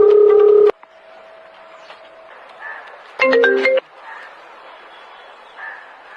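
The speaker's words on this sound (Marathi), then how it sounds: "आता सरला फोन लावावा लागत." A telephone being dialed and ringing, with bursts of multi-tone keypad beeps, a sustained tone, then faint repeated ringback chirps, loud and close with no talk.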